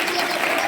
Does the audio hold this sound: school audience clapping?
yes